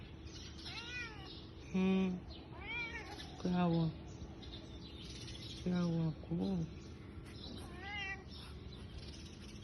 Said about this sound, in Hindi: ये पालतू बिल्ली है,